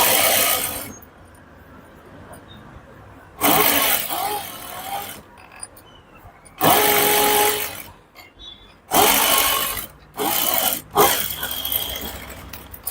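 A sewing machine stitches piping on a boutique-style blouse in several loud, whirring bursts of a few seconds each, separated by quiet pauses and small handling noises.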